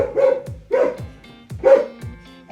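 A dog barks three times in a steady rhythm, sharp and fairly close, each bark trailing off before the next, with no talking over it.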